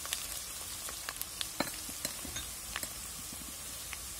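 Garlic, ginger and green chillies sauté in a pan for grape pickle, giving a steady, gentle sizzle flecked with small scattered pops and crackles, with no talking.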